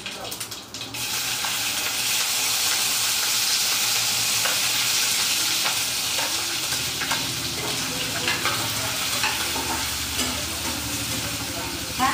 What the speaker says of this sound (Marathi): छान तेल तापलं असल्यामुळे छान छान फ्राय झाले, तडका झाला